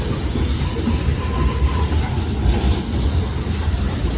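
A freight train of DJJ railcars, 1987 builds, rolls past at close range, a continuous dense rumble with rattling wheel and car noise throughout the short stretch, without talk.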